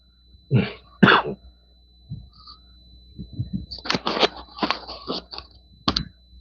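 Several coughs, close and loud, come in uneven bursts: two hard coughs early, then a longer run of rough, hacking coughs with a throat-clearing quality.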